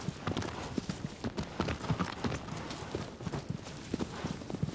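Horse hooves clop steadily in a walking rhythm in the video game Shadow of the Colossus, fairly close, with a soft ambient background and no talking.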